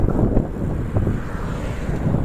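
Strong coastal wind buffets the microphone during a mountain bike ride near the sea in Spain, between Alicante and Cala Ferris, in continuous low rumbling gusts, loud and close, with no voices.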